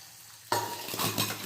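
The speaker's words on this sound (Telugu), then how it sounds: "ఇలా మొత్తం వేగేదాకా ఫ్రై చేసుకోవాలి ఫ్రెండ్స్" Tempering sizzles loudly in a hot pan, bursting in abruptly and then crackling steadily, with a few surges of stirring up close and no voices.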